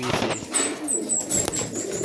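A racing pigeon arriving at a loft during an OB derby in Gumaca, Quezon gives soft coos with rustling and faint flapping, close and brief, with chirps above.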